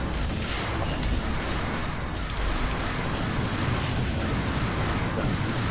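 A gun turret firing in the Wing Commander Prophecy space combat game: continuous heavy rumbling bursts and booms filling the whole stretch, loud and steady with no talking.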